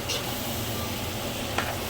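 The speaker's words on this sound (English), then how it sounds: "I add the meat. So I'm stirring it." Meat frying in a pan as it is stirred for a photos leaf dish: a steady, close sizzle with a scrape of the spoon near the start and another just past the middle, and no talking.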